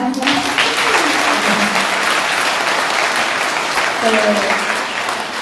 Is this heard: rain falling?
no